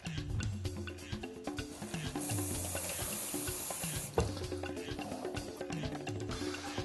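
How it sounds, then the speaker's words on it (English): Water runs steadily from a kitchen tap as food is rinsed under it, a close, continuous splashing flow with a brief clunk partway through. "I'm going to rinse this off real quick."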